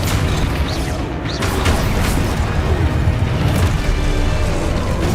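Continuous heavy rumbling and booming from spell blasts, including a Confringo explosion, in the video game Hogwarts Legacy, loud and dense with no clear pauses, a steady thunderous wash of combat noise.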